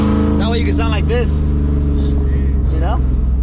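A truck with headers and open exhaust cutouts rumbles and revs up, a deep steady growl rising in pitch with each throttle blip, heard close by.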